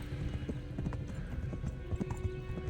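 Hooves clip-clop steadily beneath a horse ridden in the medieval video game Kingdom Come: Deliverance, a continuous rhythmic gallop of dull thuds, fairly loud and close, with no talking.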